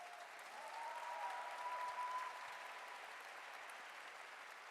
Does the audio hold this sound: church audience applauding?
yes